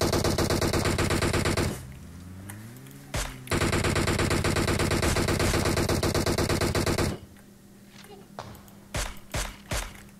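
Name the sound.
gunfire in video game PUBG Mobile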